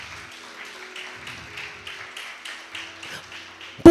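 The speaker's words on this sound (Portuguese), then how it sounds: "vocês podem aplaudir o Senhor" A church congregation applauds during a family worship service, a steady bed of many hands clapping with a faint sustained tone beneath and a sharp thump at the very end.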